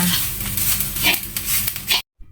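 Grated coconut is stirred and dry-roasted in a pan for rendang, giving a steady, close scraping and rustling sizzle with a few louder scrapes before it cuts off abruptly.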